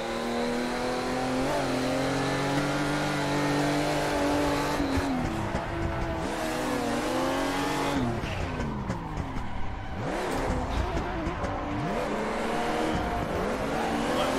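A car drifts on Japanese mountain roads in the Assetto Corsa racing game, with a revving engine, shifting pitch through throttle changes and tire squeal throughout, loud and continuous with no talking.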